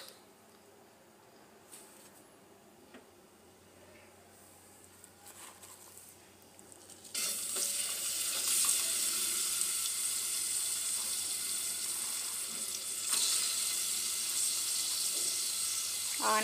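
Cumin seeds hitting hot ghee in a pan for bagara rice, quiet at first, then a sudden loud, bright hissing sizzle that keeps crackling steadily, close by, with a brief voice near the start.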